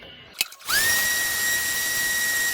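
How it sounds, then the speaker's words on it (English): Power sander working on glued wood pieces for a turkey fan and beard plaque, starting with a few clicks and then settling into a loud, steady high-pitched whine that holds to the end. "And then we're just gonna sand them all down."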